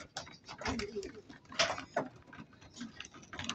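Pigeons in a home loft coo softly amid busy chatter and rustling, with someone talking over the birds throughout.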